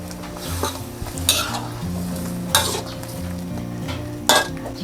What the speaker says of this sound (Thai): ให้เราใส่ใบยี่หร่าลงไปเลยค่ะ แล้วกดลงค่ะ